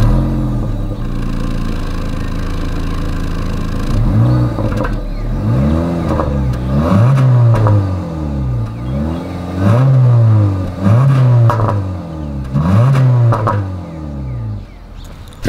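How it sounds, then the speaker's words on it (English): A 2025 Honda Civic's exhaust idles, then revs repeatedly in a rhythmic series of rising and falling engine pulls, loud and close, with no talking. "As always, here is that exhaust clip."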